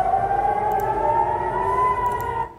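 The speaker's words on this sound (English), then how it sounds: "Sounds like a normal siren, and that also scared me out of the freak." An Israeli emergency alert siren sounds loud and steady, a single sustained tone that rises gently in pitch and then fades out near the end.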